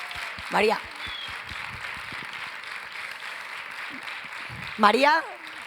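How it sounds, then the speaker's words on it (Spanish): An audience at a coaching marathon event in Las Rozas applauds, giving a sustained, diffuse patter of clapping that fills the clip at moderate volume, with a couple of short vocal exclamations rising above it. "una persona que se llama María Martínez, que es la responsable de que todo esto pase y para la que pido un fuerte aplauso de nuevo"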